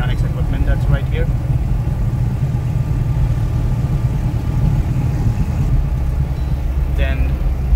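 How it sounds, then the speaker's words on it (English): Diamond DA20 light aircraft piston engine running at idle after startup, a steady low drone heard from inside the cockpit throughout, with a couple of faint chirps over it. "I pulled it back all the way, so the engine is on right now."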